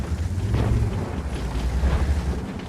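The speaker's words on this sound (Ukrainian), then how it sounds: "Так, фугасом стрільнув." A high-explosive shell fired from a tank in a video game: a loud, rumbling low boom with sustained heavy rumble throughout, no speech.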